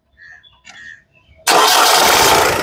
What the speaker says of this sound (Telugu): సింగిల్ సెల్ఫ్లో అయితే కార్ స్టార్ట్ అవుతుంది